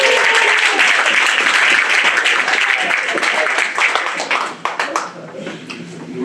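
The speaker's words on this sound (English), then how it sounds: "give a round of applause" Audience at a multicultural ministries conference breaks into loud, sustained applause that gradually thins and fades toward the end.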